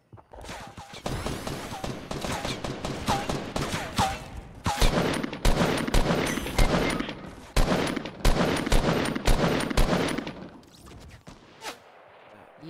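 Rapid bursts of gunfire ring out in a Fortnite squad match, loud and close, with dense repeated shots packed over several seconds before tapering off near the end, including sniper rifle fire.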